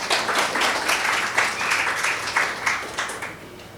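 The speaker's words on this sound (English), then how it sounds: "Please give a round of applause" An audience at an annual general meeting applauds, producing a steady burst of dense clapping that fades away toward the end.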